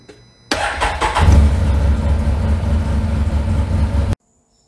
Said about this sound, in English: I'm gonna give you a before crank.